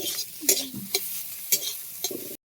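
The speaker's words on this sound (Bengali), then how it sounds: "কড়াইতে আমি তেল দিয়ে দিয়েছি, তেলটা গরমও হয়ে গিয়েছে। সয়াবিনগুলো ভেজে নেব।" Soybean chunks fry in hot oil in a wok, with a low sizzle under four or five sharp spatula scrapes and taps spaced about half a second apart before it cuts off abruptly.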